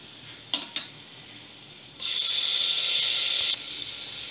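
Chopped tomatoes land in hot fried masala with a sharp burst of loud sizzling that lasts about a second and a half, then settles to a steady hiss, after two light clinks of a spoon.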